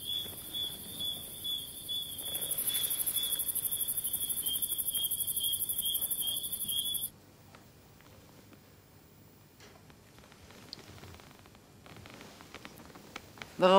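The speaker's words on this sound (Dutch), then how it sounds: "Het gezang van de krekel." A cricket sings a steady, shrill chirping song up close for about seven seconds, then stops abruptly, leaving quiet room noise with faint rustles.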